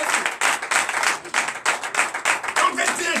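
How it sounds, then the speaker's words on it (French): Church congregation at a Sunday service in Benin clapping in a loud, dense, rhythmic burst of many hands, close and continuous, with voices mixed underneath. "Donnez l'acclamation"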